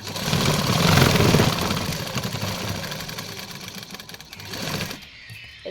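A sewing machine runs steadily, double-stitching a pocket strip on patiala pants, its busy mechanical whir loud and continuous before cutting off near the end.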